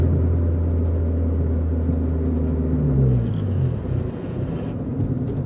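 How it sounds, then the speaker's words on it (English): A Honda Civic EK slows from about 40 to a stop, its engine drone winding down in pitch from inside the cabin, steady and moderately loud before settling to a quieter idle. "Okay, we're gonna come up to a stop here."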